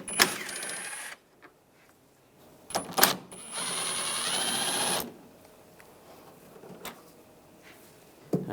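A 10mm socket removes the headlight bolts on a 2011-2018 Ram 1500, with two close whirring bursts of a powered driver separated by quiet clicks and taps of the tool.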